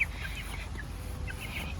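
Chickens clucking softly near a backyard chicken coop outdoors, a few faint, brief calls scattered over a low steady background.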